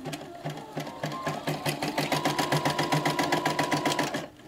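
A Poolin EOC05 embroidery machine stitches a stretchy, fluffy sock in a rapid, even mechanical rhythm of needle strokes, close and clear with no talk.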